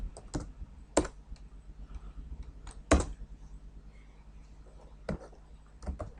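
Keys clacking on a computer keyboard in sparse, uneven bursts, with a few sharper, louder strikes standing out against a quiet room background.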